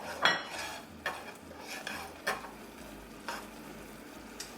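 A spoon stirs salt and basil around a pan of pork chops, giving a few soft scraping knocks spaced about a second apart over a faint sizzle, quiet and close with no talk.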